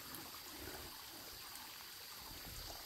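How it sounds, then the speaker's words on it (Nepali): A small stream that has newly begun flowing after a dry day gives a steady, faint, continuous babble and trickle of water, with no voices. "खोला नालाले पनि सलल गरेर गीत गाउनु थालिहाल्यो"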